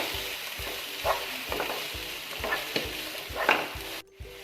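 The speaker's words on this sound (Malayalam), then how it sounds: "എല്ലാം കൂടി നന്നായിട്ടൊന്ന് മിക്സാക്കി എടുക്കണം" A spatula scrapes through chopped capsicum and chicken fajita filling in a pan, sizzling steadily with repeated rhythmic stirring strokes, close and moderately loud, with no talk.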